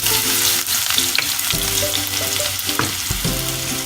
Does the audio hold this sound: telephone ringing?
no